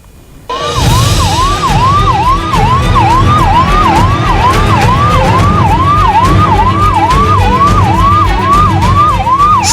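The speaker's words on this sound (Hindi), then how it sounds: "सड़क पर सरपट सायरन बजाती एम्बुलेंस" A loud, close ambulance siren wails in a fast repeating up-and-down pattern over heavy road traffic rumble, continuing steadily throughout.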